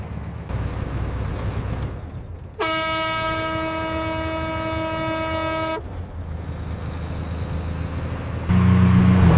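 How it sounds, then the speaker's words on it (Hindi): A single long, loud blast of a truck air horn, about three seconds, over steady engine rumble and road noise. "हॉर्न दो"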